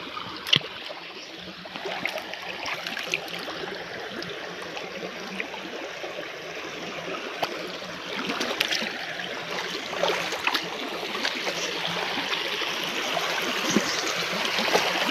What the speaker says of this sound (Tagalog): agos ng tubig sapa